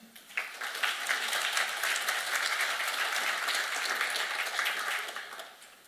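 Audience applause welcoming a speaker onto the stage at a talk: steady, dense clapping from a sizeable crowd that swells quickly, holds for several seconds, then tapers off.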